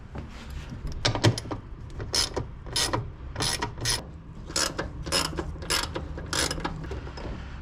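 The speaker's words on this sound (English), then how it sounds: "And then just loosen up these 6 bolts. They're all 10 millimeter." Rapid ratchet clicks come in repeated short bursts, close and crisp, as six 10 mm bolts are loosened on the wiper cowl of an MK3 Toyota Supra, with no talking over the work.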